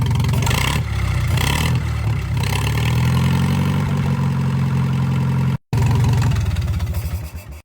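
A rebuilt engine that had stuck piston rings runs steadily and loudly up close. It idles with a rough, harmonic drone, cuts out briefly near the end, then restarts and keeps running.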